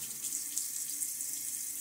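Water runs steadily from a bathroom tap as a rinse during a wet shave, a bright, constant hiss of flowing water heard alone and at moderate volume.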